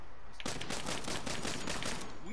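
Rapid gunfire from a golden gun in the Saints Row video game, a dense run of loud shots that starts after a short pause and continues for about two seconds.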